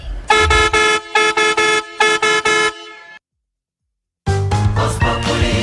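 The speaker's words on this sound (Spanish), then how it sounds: "Suena el claxon, suena el claxon." A car horn honks in quick bursts of short toots, loud and close, then stops briefly before another louder, harsher blast of honking and engine noise.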